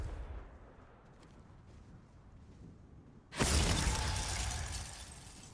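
Glacius and Confringo spells cast in the Hogwarts Legacy video game: a low, quiet game background gives way to a sudden loud, shattering, explosive blast that carries on as a roaring rumble to the end.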